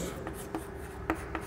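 A pen writes with faint scratching strokes and a few slightly sharper taps, close and quiet over a steady low background hum.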